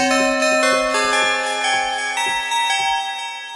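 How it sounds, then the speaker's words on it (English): A bright bell synthesized in Chromaphone 2 to sound struck with a wax-tip stick, hit repeatedly in an uneven rhythm, each hit with a soft, slightly muted attack and long ringing overtones that overlap. "maybe a wax tip stick"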